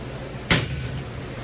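A drawer is pulled out of a cabinet with one short, sharp knock, close by, over a low steady hum and otherwise quiet surroundings.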